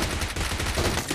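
Rapid gunfire in the BGMI shooter game during a team deathmatch, dense overlapping shots packed into a loud, continuous burst with no talk.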